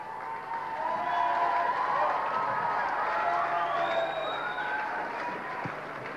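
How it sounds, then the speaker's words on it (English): School band-night audience cheering, whooping and clapping for a four-piece band, a sustained crowd roar with shouts rising over it, fairly distant and steady throughout. "I think there's quite a lot of appreciation that should be shouts and claps and everything for the band."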